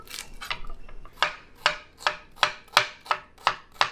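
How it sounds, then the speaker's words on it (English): A knife chopping an onion on a board, a run of about a dozen crisp, evenly spaced cuts that grow sharper and more regular, close and alone without talk. "So I have an onion here that I'm gonna chop up."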